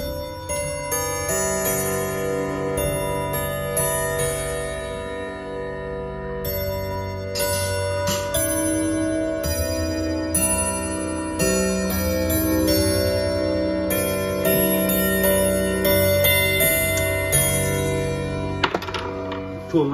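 An antique clock's bell chimes repeatedly in a steady series of ringing strikes with sustained ringing overtones, loud and close, accompanied by occasional ticking mechanism sounds.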